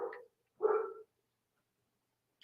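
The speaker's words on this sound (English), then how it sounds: "You guys hear Charlie barking?" Charlie the dog gives two short, close barks a moment apart, followed by silence and then a faint brief yip, with no talking.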